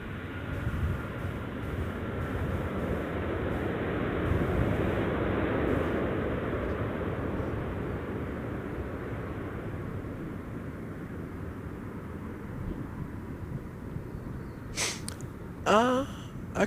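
A Brunei Boeing 767-200ER lands at Gold Coast Airport in a crosswind, a steady broadband jet roar rising and fading, with faint voices near the end.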